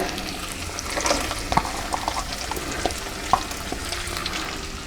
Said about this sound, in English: we're going to go ahead and put the onions in and the celery